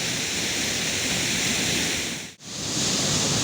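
The Vattayi waterfall roars steadily as a dense, even rush of water close by, with one brief dip partway through.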